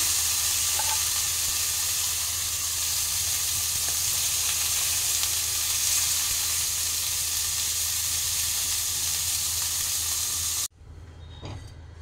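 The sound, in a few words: fish frying in oil in a pan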